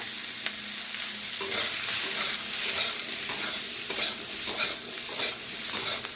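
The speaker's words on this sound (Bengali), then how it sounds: "এগুলো একটু নুন হলুদ দিয়ে নেড়ে সেড়ে ভেজে নেবো" Spinach and potatoes fry in a pan with salt and turmeric while being stirred, giving a loud, steady sizzle with repeated scraping strokes of the spatula close by.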